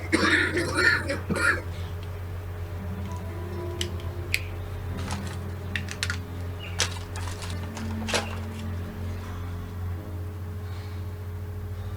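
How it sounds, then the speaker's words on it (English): A man with emphysema coughs after inhaling his medication, giving a few rough, close coughs and throat clearing near the start, followed by quiet room noise with small scattered clicks and rustles. "which invariably makes me cough."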